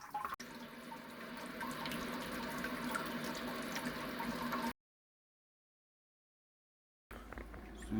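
Water runs steadily into a homebrew kettle during the sparge, a continuous close trickling rush that cuts off abruptly and resumes a couple of seconds later.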